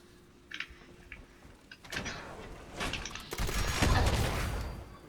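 Explosive railway rifle rounds burst in Fallout 76, a scattered series of sharp cracks and thuds that build into a dense cluster of blasts, faint at first and growing louder.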